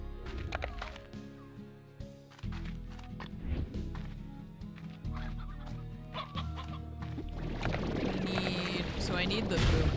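Chickens in the video game Slime Rancher cluck repeatedly in short, fairly quiet bursts, mixed with game music and light tapping footsteps, while a person talks over them.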